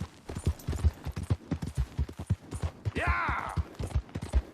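Horse galloping in the video game Red Dead Redemption 2: steady, rhythmic hoofbeats fill the clip, with a brief whinny-like neigh partway through.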